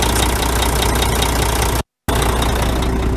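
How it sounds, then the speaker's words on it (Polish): A heavy Renault Magnum truck engine idles loudly and close with a dense, knocking diesel rumble, cutting out briefly to silence before resuming. "Posłuchajmy, jak ten silnik chodzi"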